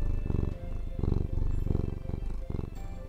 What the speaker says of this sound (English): That's a happy cat.